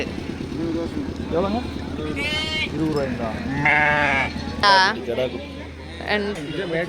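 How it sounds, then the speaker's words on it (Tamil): Mecheri sheep bleat at a busy goat and sheep market in Mettur, Tamil Nadu, with several short calls rising over steady crowd chatter and a motorbike engine droning low in the background. "அதுதான் மேச்சேரி ஆடு"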